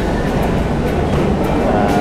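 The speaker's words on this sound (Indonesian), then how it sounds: "Nah, ini MRT-nya datang." A Singapore MRT train pulls into a station with a steady, loud broadband rumble and rush. No voices are heard.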